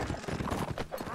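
Horse hooves clip-clopping in a historical battle video game, a quick, steady run of close hoofbeats within a brief moment of play.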